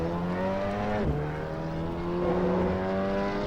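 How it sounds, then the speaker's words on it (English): A Volvo S60R engine in the driving simulator Assetto Corsa, droning steadily at moderate level with a quick shift dip partway through, then a smooth continuing pull. "we can also now use a Volvo S60R in Assetto Corsa"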